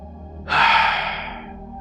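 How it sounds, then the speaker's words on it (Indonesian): A single long, deep gasping intake of breath, loud and close, rising suddenly and then trailing off slowly. "Awal menarik nafas panjang, sangat panjang, seperti baru saja muncul dari air."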